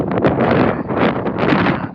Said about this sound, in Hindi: बहुत हवा चल रही है, बहुत ज़्यादा हवा